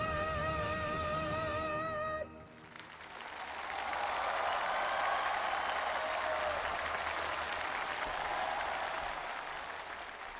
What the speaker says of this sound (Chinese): 大家的掌声